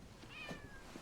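A cat meows faintly once or twice indoors in a hallway, a short, quiet mewing over low background noise.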